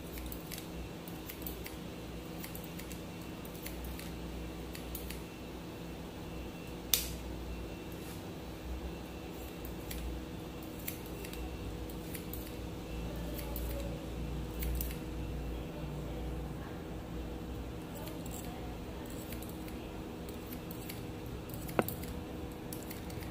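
Soft snipping of barber scissors during a scissor-over-comb haircut on a person with thin hair, quiet repeated cuts over steady room hum with occasional sharper clicks of the comb.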